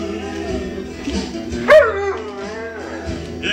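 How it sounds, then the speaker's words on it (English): A dog lets out a single sharp bark, close and loud, over a background of music and room noise at home near a Christmas tree. "let me get the dog down"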